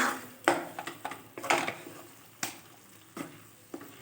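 Bottle gourd curry being stirred in a pan, with soft scraping strokes and light clinks of a utensil against the metal coming in irregular bursts, quiet and close.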